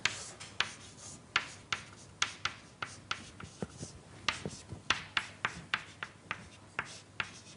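Chalk or a marker taps and scrapes across a board during a statistical mechanics lecture, a quick irregular run of close, crisp strokes with no voice over them.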